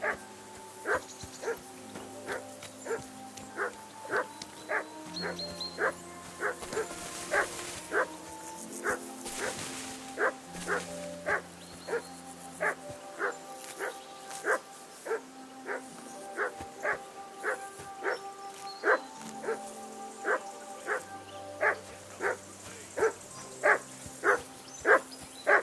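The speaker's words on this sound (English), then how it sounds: "Call that dog to heel!" Dog barking repeatedly in the medieval role-playing game Kingdom Come: Deliverance 2, sharp yips in a steady rhythm over a low musical score, fairly close and prominent throughout.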